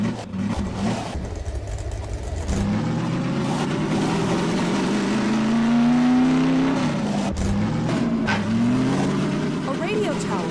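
A car engine in the Half-Life 2 video game revs and drones throughout, pitch climbing and dipping as it accelerates, loud and close, with someone talking over it.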